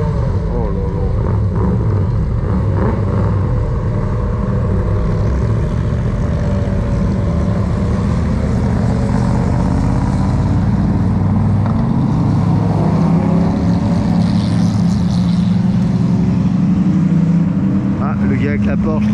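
Cars on a warm-up lap at the Montlhéry circuit: a loud, steady engine roar that holds through the whole stretch, rising and shifting in pitch as the machines run on, with speech underneath.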